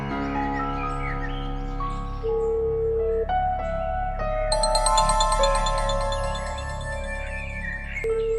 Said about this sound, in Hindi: घंटी बज रही।